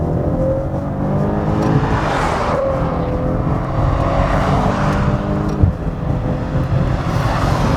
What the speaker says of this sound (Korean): 지금부터 마세라티 기블리와 함께 달려보겠습니다